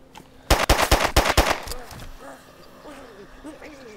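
A rapid burst of automatic gunfire in the video game DayZ, about seven loud close shots in quick succession, followed by quieter game ambience.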